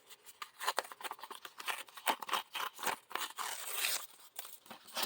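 Paper torn by hand for a junk journal, a close series of short dry rips and crinkles, the tearing continuing in uneven bursts with a brief pause before a longer, steadier rip near the end.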